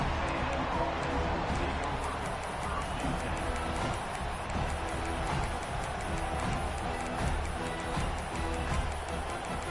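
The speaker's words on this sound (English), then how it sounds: "Listen to the crowd energy here in the early going" Stadium crowd roar in a College Football 26 game, Texas A&M against Florida, a steady loud wall of cheering noise filling the whole stretch, with a commentator's voice faintly over it.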